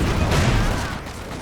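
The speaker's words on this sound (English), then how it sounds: "Huge grenades exchanged here." Grenades exploding during a battle in Company of Heroes 2, a dense, loud rumbling barrage of blasts and gunfire that rolls on without a break.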